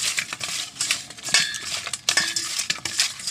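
Small puti fish being mixed by hand with salt and turmeric powder in a bowl, giving close, wet clicking and clinking scrapes in quick irregular bursts, alone without talk.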